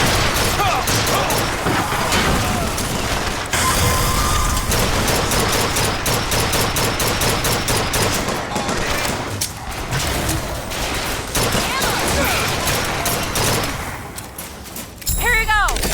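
A deployable turret in the video game Bioshock Infinite fires continuous loud rapid gunfire. Thuds and blasts fill a dense, constant battle din, and a closing mechanical whir ends it.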